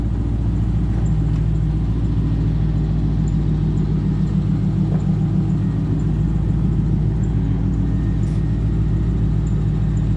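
A Chevrolet Corvette C5 engine idles steadily at close range, a continuous low rumble with an even, throbbing pulse that holds for the full stretch with no voices over it.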